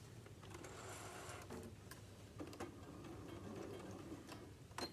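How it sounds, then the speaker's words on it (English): A sewing machine stitches fabric for a tote bag in a faint, steady mechanical whir with light ticking, sewing forward without pause and without voices. "Place my fabric in. I'm going to sew forwards."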